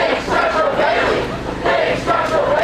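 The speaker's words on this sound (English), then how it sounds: "Cheering." A crowd cheering and shouting in loud swelling waves, several rising and falling pulses of massed voices packed close together.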